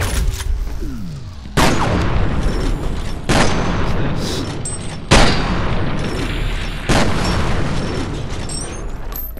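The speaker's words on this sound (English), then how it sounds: "Some random guy shooting over there as well." Gunfire rings out in the shooter game F.E.A.R. as several loud, sharp bursts arrive at intervals of about two seconds, each followed by a ringing, rumbling tail, with nobody talking.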